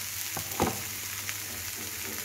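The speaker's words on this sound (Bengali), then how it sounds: "সবজিটা একটু একদম ভাজা ভাজা হয়ে যাক" Vegetables and cooked rice frying in a pan for mixed vegetable rice give a steady, moderately loud sizzle, with a few brief stirring scrapes near the start.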